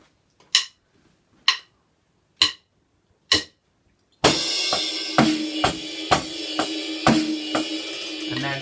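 Four evenly spaced count-in clicks, then a drum beat enters with a bright crash cymbal on beat 1 of the third bar washing over steady kick and snare hits.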